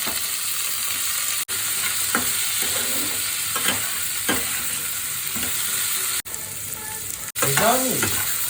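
Potatoes for aloo posto fry in a pan with a steady close sizzle, while a utensil scrapes and clatters as they are stirred, and a few brief clanks sound near the end.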